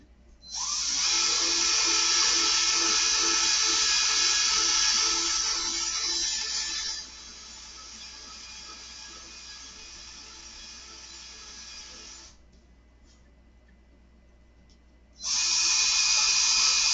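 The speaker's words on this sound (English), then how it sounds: "I'm gonna use two hands on my drill for this because it's weird." A power drill bores through a model railroad layout, whining loudly in a long sustained burst, easing to a lower hum, stopping, then whining again near the end, with no talk.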